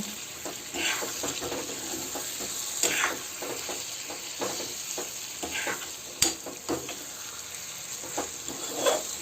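Egg bhurji sizzling in a pan over a low gas flame, a steady soft frying hiss broken by repeated spatula scrapes and stirring taps, with no talking.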